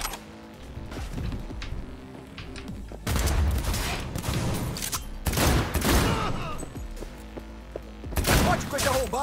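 Bursts of gunfire and impacts during combat in the video game Cyberpunk 2077, coming in several loud clusters separated by quieter stretches of game noise.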